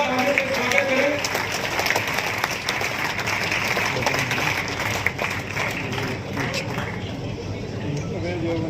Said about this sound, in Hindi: सभी जोरदार तालियों से स्वागत करें।